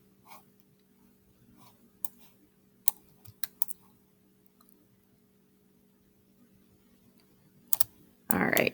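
Sparse computer clicks and key taps come in isolated bursts over a quiet, humming room, with a few louder clicks and a brief rustling burst near the end.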